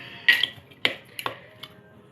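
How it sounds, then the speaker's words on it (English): A ginger bug of ginger, sugar and water is stirred in a container, giving four sharp clinks and taps spaced about half a second apart, close and clear with quiet between them. "so we are just going to stir this up"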